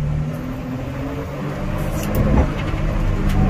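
A 2005 Caterpillar 988G wheel loader drives forward in first gear, its diesel engine a steady low rumble with a slight swell in the middle, heard close and fairly loud.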